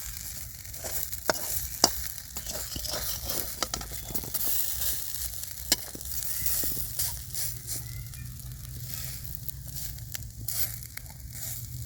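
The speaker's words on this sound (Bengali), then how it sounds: "এইভাবে কিন্তু বারবার 5 থেকে 6 বার উল্টে পাল্টে ভেজে নিতে হবে।" Brinjal slices dry-frying in a covered pan with no oil give a steady soft sizzle and crackle, broken by occasional sharp clicks and clatters as the pieces are turned and the lid is lifted.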